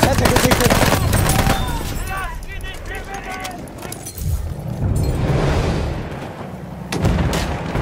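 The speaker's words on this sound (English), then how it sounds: "Ein Maschinengewehr!" Machine gun fire and explosions in the Battlefield 1 video game, loud dense bursts of rapid gunfire with booms, under shouting voices.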